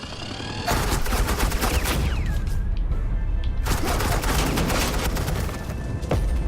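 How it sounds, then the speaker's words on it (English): Suppressing gunfire in the video game Batman: The Enemy Within: dense, loud, continuous automatic fire with crashing impacts, broken by a short lull before the barrage resumes. "This is Agent Quinn, suppressing fire"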